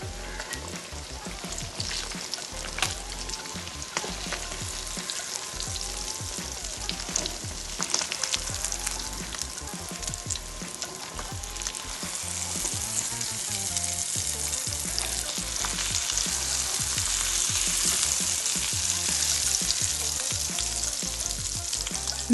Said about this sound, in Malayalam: ഇത് നന്നായി ഇതൊന്ന് പൊരിയട്ടെ.